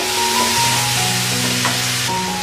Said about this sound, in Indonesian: Aduk-aduk sebentar supaya rata dengan minyaknya.